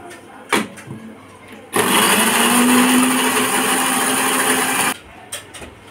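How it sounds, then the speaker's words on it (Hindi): An electric kitchen grinder whirs loudly for about three seconds as it chops onions in its jug, starting abruptly and cutting off just as suddenly, with quieter kitchen clatter before and after. "जग में मैं प्याज डाल रही हूँ, अब ग्राइंडर करने लगी हूँ।"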